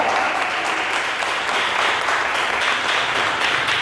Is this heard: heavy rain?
no